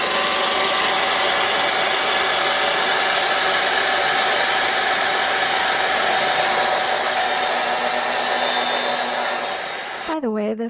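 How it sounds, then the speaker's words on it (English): A miter saw runs continuously for about ten seconds during a furniture makeover, a loud, close, steady whine and roar that cuts off abruptly near the end. "By the way, that's a miter saw."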